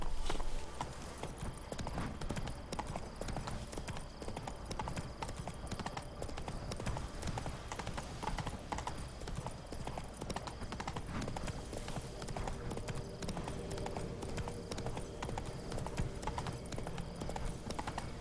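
Roach the horse clip-clops at a steady pace through The Witcher 3 game world, continuous hoofbeats layered over game ambience at a fairly quiet level, with some talking mixed in.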